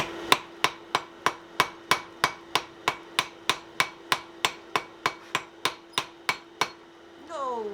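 A hammer strikes hot steel at forge-welding heat, giving about twenty sharp, ringing blows in a fast, even rhythm, loud and close, followed by a brief scraping or hissing sound at the end.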